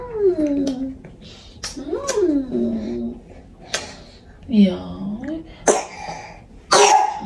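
A young girl who is ill gives several harsh, rattly coughs in bursts, close to the listener, with throat-clearing sounds between them.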